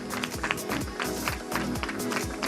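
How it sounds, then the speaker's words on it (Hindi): A crowd at a film promotion event claps for an actor, a busy mix of applause with some voices and movement noise beneath it. "अतुल जी के लिए जोरदार तालियां हो जाए"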